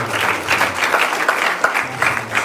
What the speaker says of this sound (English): please give a ton of applause for